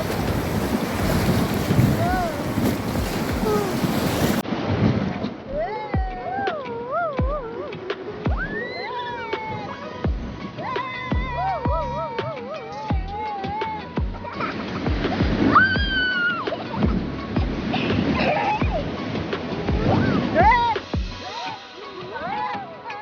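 River rafting in Kullu, with rushing water and splashing waves under heavy wind buffeting on the microphone, loud and continuous, while people shout and talk over it.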